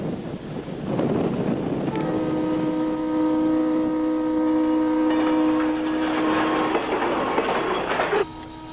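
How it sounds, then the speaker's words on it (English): A freight train with diesel locomotives pulling 100 cars at 20 miles an hour toward a road crossing rumbles along the tracks while its horn blares in a long, loud, sustained blast. "You're looking down the tracks from a train that's moving 20 miles an hour."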